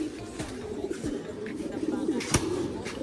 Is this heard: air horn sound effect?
no